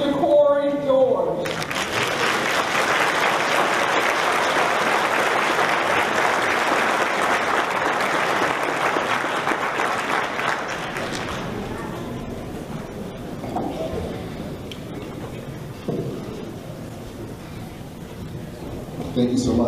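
Sustained audience applause fills a commencement hall as a speaker is welcomed, a dense, loud wash of clapping that fades after about ten seconds into quieter room sound and a voice.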